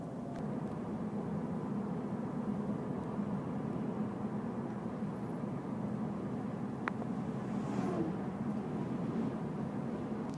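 A 2015 Ford Fusion SE runs through a test drive, giving a steady, even cabin drone of engine and road noise that holds at the same level from start to finish.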